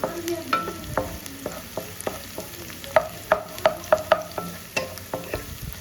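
Chicken liver fries in a pan under a soft sizzle, while a utensil stirs it with rhythmic scraping clacks that come close and clear.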